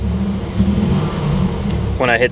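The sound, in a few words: 1987 Buick Grand National engine revving, breaking up, cutting out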